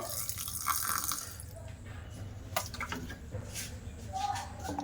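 Water is poured into soaked rice in a mixer grinder jar in a home kitchen, a soft trickling and splashing that is fairly close and quiet, with a faint voice in the background.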